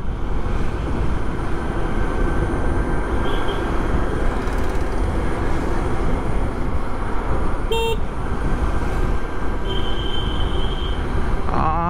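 Ather 450X electric scooter heard while riding, a steady broadband road and wind rush with a faint whine, brief electronic beeps partway through, no talking.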